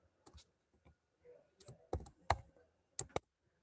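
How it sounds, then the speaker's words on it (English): Someone keys an expression into a calculator in a few quiet, uneven clusters of button taps, close by, with no speech over them. "And then I can just type out the whole thing."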